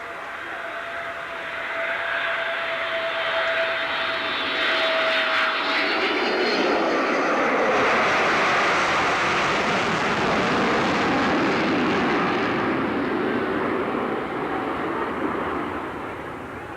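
British Airways Concorde jet airliner flies past at the 1986 Abbotsford International Airshow, its engine roar building from a distant whine into a loud, broad rumble that holds for several seconds, then begins to fade.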